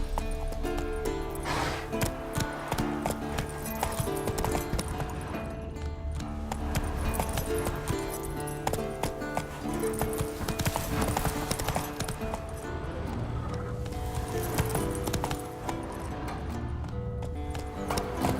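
Roach, the horse in the video game The Witcher 3, gallops in a continuous rhythmic clip-clop of hooves, loud and close over a busy layer of game music and ambience for the whole stretch.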